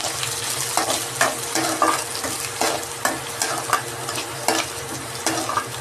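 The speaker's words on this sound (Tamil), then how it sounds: "கருவேப்பிலை போட்டு நல்லா பொரிஞ்ச உடனே வெங்காயம் வெங்காயம் போட்டுட்டோமா வெங்காயம் பொரியட்டும்" Onions and curry leaves fry in hot oil for a fish kuzhambu, stirred in a pan. A constant sizzle runs under regular scraping strokes of the spoon, close up.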